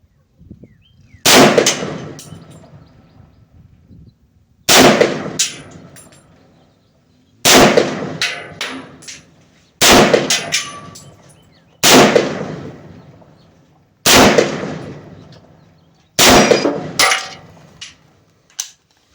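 An M1 Garand rifle fires 30-06 rounds at a range, seven loud, sharp single shots spaced a few seconds apart, each followed by a short decaying echo.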